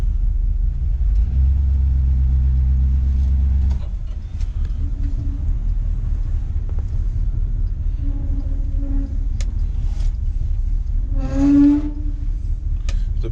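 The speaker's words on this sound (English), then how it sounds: "Gonna attempt to back it up and look at that trans pan." A 1971 Chevy 4x4 pickup backing up, with a steady low engine rumble up close, a heavier idle in the first few seconds, then lighter running, and a brief squeal or creak near the end.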